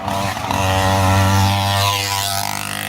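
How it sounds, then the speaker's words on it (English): A loud, steady engine drone with a strong low hum, rising slightly in pitch and then easing off, as a gas-powered bike passes close by. "That was just a gas-powered bike."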